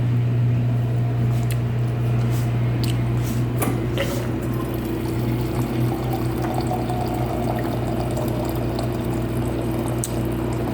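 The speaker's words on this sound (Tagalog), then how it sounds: "Naglaga natin ng mainit na tubig." Hot water poured over food for a soupy lunch, a continuous liquid splashing and gurgling with scattered drips and small clinks, over a steady low background hum and no talking.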